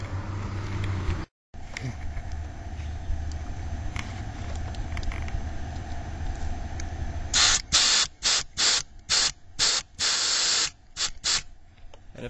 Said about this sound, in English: we're just going to blow some air backwards through the tube